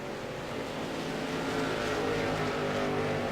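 Stock race cars roaring around an oval track during a CRA 150-lap special event, a steady loud engine drone that swells slightly as the cars run down the backstretch, with no talk.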